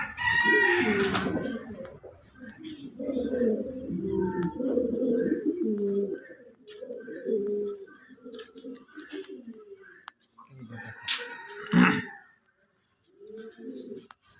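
Several pigeons of various breeds cooing in low, throaty, overlapping calls, close by in a zoo's pigeon sheds, with a rooster-like crow and occasional flutter mixed in.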